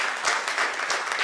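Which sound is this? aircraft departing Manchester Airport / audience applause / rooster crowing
audience applause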